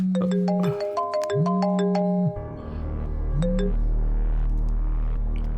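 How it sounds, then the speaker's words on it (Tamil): A phone rings in a Tamil film scene, a repeating electronic two-tone chime in bursts over a low hum, then a brief final ring as the background noise swells. "ஃபோன் அடிக்குது"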